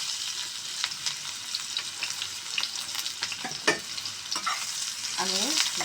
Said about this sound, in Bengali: এখন দিয়ে দেবো কুচানো পেঁয়াজ।